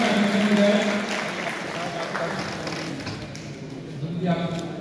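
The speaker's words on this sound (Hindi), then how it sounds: "एक बार जोरदार तालियों के" Broad, dense clapping from a crowd fills the whole stretch at a fairly steady level, with voices mixed in beneath it.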